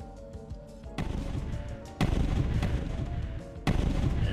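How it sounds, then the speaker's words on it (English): Explosion sound effects from a Unity-built Asteroids space shooter game: three abrupt, loud bursts land about a second apart, each a broadband crash with a rumbling tail, over a quieter tonal soundtrack. "And we've got an explosion sound."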